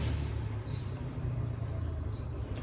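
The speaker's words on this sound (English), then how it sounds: "It was a weird car going by." A car drives past outdoors, giving a steady low engine rumble and broadband road noise that stays loud and even for the whole stretch, with no talking.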